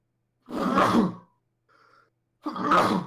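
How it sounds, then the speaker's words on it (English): Two forceful sneezes close to the microphone, each a loud noisy burst about half a second long, separated by a brief faint sniff in near silence. "I'm gonna sneeze 1 second."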